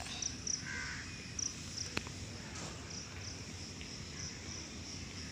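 A few distant crows caw faintly over a steady chorus of chirping crickets in an otherwise quiet outdoor setting during an early morning walk.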